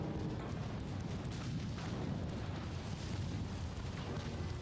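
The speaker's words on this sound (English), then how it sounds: "Torpedo hit a midship." A torpedo strikes a warship midship in a naval battle in Ultimate Admiral: Dreadnoughts, a dense, steady rumble of explosions and artillery booms that continues without pause.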